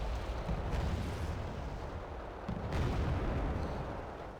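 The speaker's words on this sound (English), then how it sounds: "As the mortars come in and help out. Oh yeah, there's a mortar." Mortar fire in the video game Wargame Red Dragon rumbles as a dense, sustained barrage of deep thuds and blasts, with a fresh burst of impacts swelling partway through.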